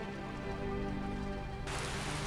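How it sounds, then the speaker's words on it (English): Rain falling in the Skyrim video game, heard as a steady broadband hiss that swells sharply louder partway through, with no voices. "We got some rain."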